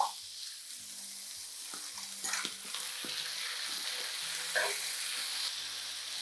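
Nopales and tomato sizzle in olive oil in a pan while a utensil stirs them, scraping and clacking against the pan in short strokes over a steady frying hiss.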